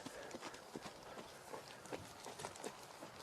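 A horse's hooves trot on the ground during a natural horsemanship training session, a quick, uneven series of soft thuds, faint and somewhat distant, with no talking.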